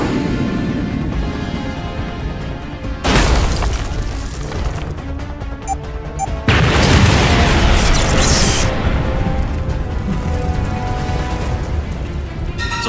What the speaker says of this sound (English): Get ready to drop the bomb.